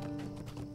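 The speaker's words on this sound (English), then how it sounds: "Oh, look at you on your little horse, Bedora" Horse hooves clip-clopping in the Lord of the Rings Online video game, a quick, steady run of soft hoofbeats heard close and alone.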